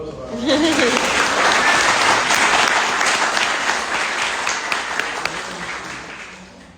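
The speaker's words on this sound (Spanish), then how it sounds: "Aplauso." An audience applauding at a book presentation in a library in the Canary Islands, loud sustained clapping from many people that swells early and slowly tapers, with a voice briefly heard at the start.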